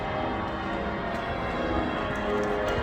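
Church bells ringing at Liverpool Cathedral, heard as a dense, steady wash of overlapping tones filling the space, recorded from inside the building at a moderate level.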